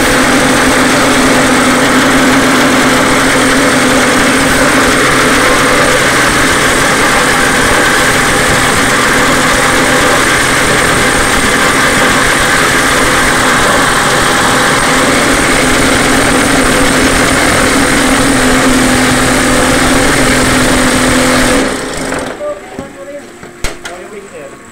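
A hollow block-making machine's engine runs loudly and steadily, droning close by for a long stretch before abruptly shutting off.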